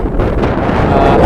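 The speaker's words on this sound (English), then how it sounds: "The wind has picked up significantly. It's gusting probably about 15 to 20 miles an hour." Strong gusting wind on top of a ridge buffets the microphone with a loud, continuous roaring rumble that stays close and heavy throughout, with no voices.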